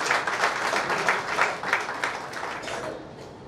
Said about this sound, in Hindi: तो एक बार हमारे अध्यक्ष महोदय के लिए जोरदार ताली।